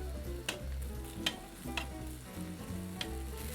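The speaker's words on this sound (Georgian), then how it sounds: "ცოტა შეუბრაწოთ ოდნავ ტაფაზე" A dandouri dish browns in a hot frying pan with a steady, close sizzle. A few sharper spikes of stirring or scraping cut through the frying at irregular intervals.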